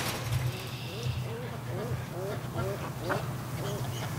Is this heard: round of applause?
no